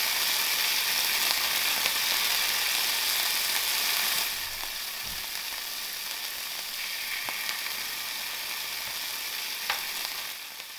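Pieces of ribeye steak sizzle steadily in a hot pan as they fry to a golden crust, a close, even hiss throughout that eases slightly in level partway through, with no voices.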